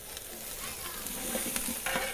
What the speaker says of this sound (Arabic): حطيت الدهن اللي مال الدياي، وحن نحط البصل